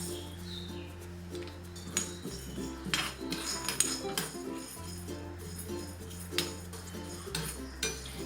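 Urad dal and raw rice dry-roast in a hot pan, a spoon repeatedly scraping and clinking against the metal in irregular strokes under a faint low hum.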